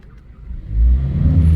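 2014 Ford Escape turbocharged engine revved while power braking to build boost, a low engine note rising sharply and holding a loud, steady roar.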